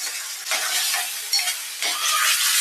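Ginger garlic paste with onions sizzles loudly in hot oil while a spoon stirs it, the crackling hiss swelling and scraping in uneven bursts, close up with no voices.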